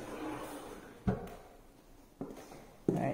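A drawer in a newly built Florida townhome bumps shut three times, each a sharp close thud spaced about a second apart over faint room noise.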